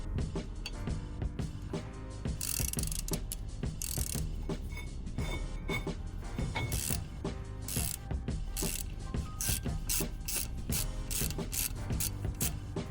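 Ratchet wrench clicking rapidly and continuously as a brake caliper bolt on an Alfa Romeo Giulietta is worked loose, dense metallic ticks close up with occasional heavier clanks throughout.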